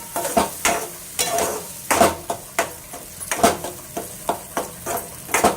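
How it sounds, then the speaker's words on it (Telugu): Ridge gourd pickle fries in a pan under a soft sizzle while a spoon scrapes and clanks against the metal in a steady rhythm of repeated strokes. No one speaks. "బాండీలో వేసి కొంచెం సేపు మనం ఫ్రై అవనిస్తూ ఉంటే"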